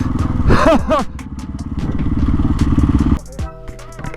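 A 2023 KTM 500 EXC-F dirt bike engine roars loudly up close, revving with rising and falling pitch sweeps before settling to a steadier idle near the end.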